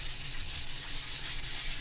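Sandpaper rubs back and forth over a craft piece before painting in quick, even strokes. The scratchy sound is steady, close and moderately loud, with no voices.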